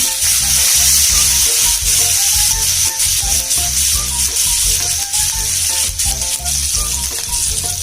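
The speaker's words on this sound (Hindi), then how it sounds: "तड़का होने के बाद ग्रीन चिलीज डालेंगे।" Fresh green chilies hit hot tempering oil for a South Indian potato dosa filling, giving a loud, steady sizzle and crackle that runs unbroken from start to finish, with small pops scattered through it.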